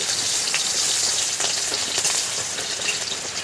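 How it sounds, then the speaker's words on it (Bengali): Green chillies and bay leaves hit hot oil for a masala egg curry, giving a loud, steady, dense sizzle with crackling spatters throughout, no voices. "ওই তেলের মধ্যে আমি দুটো কাঁচা লঙ্কা দিচ্ছি আর তেজপাতা দিব"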